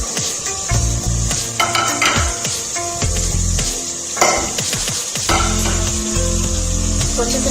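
Green peas dropped into hot oil with masala in a pan, loud sizzling and frying with repeated scraping stirs of a spoon against the pan, no talk.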